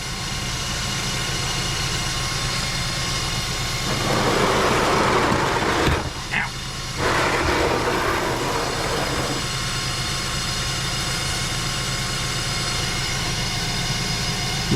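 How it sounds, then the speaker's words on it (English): Steady mechanical drone and whine from a 2005 Mazda 3 with a damaged transmission pan, engine running, with a louder broadband rush swelling for several seconds in the middle and no speech. "it sounds like it's coming from the transmission"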